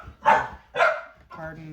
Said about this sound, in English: pardon the puppies in the background